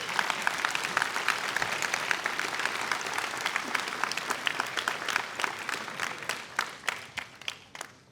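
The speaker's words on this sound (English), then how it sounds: "Let's give them a round of applause for our first group." Applause for graduation program staff at a winter graduation ceremony, steady dense clapping from a large audience that thins toward the end into scattered individual claps.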